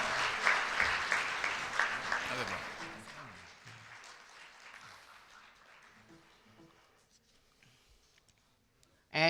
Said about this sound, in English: Give applause to all.